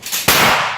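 A single loud blast from a pump-action shotgun, one sharp crack followed by a rolling decay, close by, with no talking.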